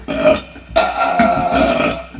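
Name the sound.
loud burp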